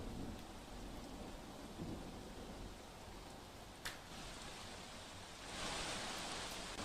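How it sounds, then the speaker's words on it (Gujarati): A steady, hissing downpour of heavy rain falls over Nadiad in Kheda district, heard from a distance at a low level, with a brief sharp crack of thunder midway and a rising surge of rain near the end. "નડિયાદ સહિત ગ્રામ્ય વિસ્તારોમાં ધોધમાર વરસાદ વરસી રહ્યો છે।"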